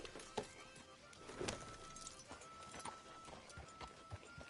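Horse hooves clopping in Red Dead Redemption 2, a steady moderate-paced clip-clop at middle distance with faint bird calls and ambient outdoor game noise.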